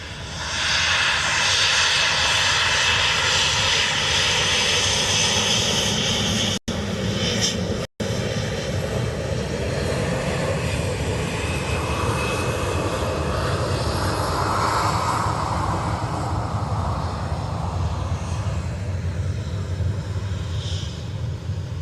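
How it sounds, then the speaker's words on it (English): A Turkish Airlines jet taking off from Dublin Airport bound for Istanbul, a sustained broad engine roar that holds steady and slowly shifts as it climbs away, with no talking. "So that Turkish, sorry, is the scheduled Turkish flight to Istanbul."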